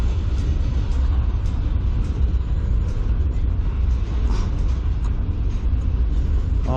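CN manifest freight train cars roll past at close range in Sarnia, Ontario, a loud, steady rumble and clatter of wheels on track that stays continuous and even throughout.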